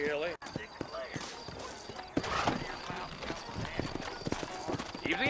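Horse hooves clip-clop in a video game, the mount starting down a trail in an evening setting, a steady mid-level patter with an occasional whinny, heard under ongoing game talk and background sound.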